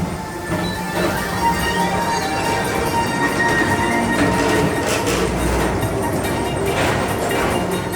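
Steady rolling rumble of the Tomorrowland Transit Authority PeopleMover train at Magic Kingdom, Walt Disney World, moving along its track, with rattles and clacks and a low, continuous drone throughout.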